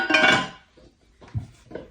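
Pots and lids clink together, one bright metallic rattle at the start followed by a few softer knocks, close by with no talking.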